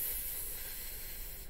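A voice makes a steady, breathy F sound, imitating air escaping from a balloon, as a sustained close hiss that cuts off abruptly at the end.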